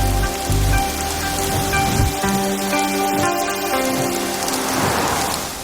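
Heavy rain pours down in a steady, dense hiss of drops on surfaces, loud and continuous, layered under sustained musical tones.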